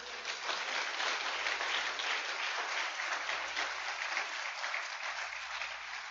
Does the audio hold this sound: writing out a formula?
no